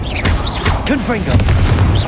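Confringo explosive spell blasts in Hogwarts Legacy, heavy booming impacts with sustained low rumble, mixed with swooping whistling magic effects and game sounds, loud and close.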